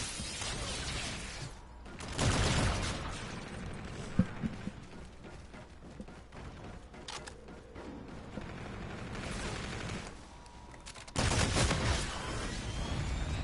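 Gunfire from the video game Call of Duty: Infinite Warfare: rapid bursts of shots crackle loudly at the start and again near the end, with scattered single shots and game effects in between.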